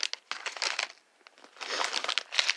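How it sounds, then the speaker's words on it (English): Plastic packaging crinkles in bursts while craft supplies such as bead and letter packets are handled, a close, dry rustle that starts, pauses for a moment, then picks up again. "So there's probably some crinkling"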